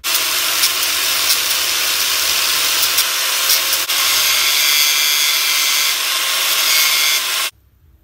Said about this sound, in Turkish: mıknatıslarımızın olduğu bölgeleri şimdi spiral taşıyla boşaltıyorum arkadaşlar